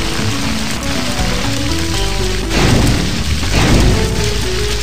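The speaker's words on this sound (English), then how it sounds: "Grab the firefighting lance to put out the fire!" A cartoon firefighting lance blasts a steady, loud rush of spraying water against a fire, with continuous hiss that swells midway over a low rumbling musical backdrop.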